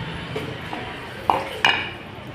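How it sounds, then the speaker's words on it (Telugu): New clay cooking pots are handled and set down while being wiped dry, giving two soft, short clinks over a quiet room background, with no voices. "ఇదంతా ఉంచేసి ఈ పాత్రలని తడి లేకుండా అయితే తుడిచేసి పెట్టాలి"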